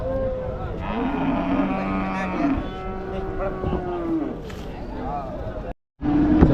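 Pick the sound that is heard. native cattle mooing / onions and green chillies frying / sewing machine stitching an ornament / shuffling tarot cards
native cattle mooing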